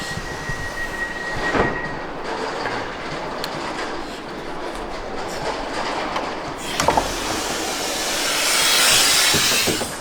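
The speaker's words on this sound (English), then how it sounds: "let's get into the train and see" A train runs along the rails with a continuous rumble, heard from inside the carriage. Wheel clatter and occasional squeals rise and fall, building louder near the end.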